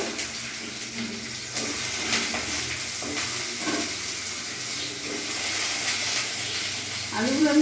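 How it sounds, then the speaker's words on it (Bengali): Potatoes frying in oil give a close, continuous sizzle with some stirring and bubbling, and a brief voice-like sound rises at the very end. "ওই তেলের মধ্যে আমি আলুগুলো লাল লাল করে ভেজে নেব।"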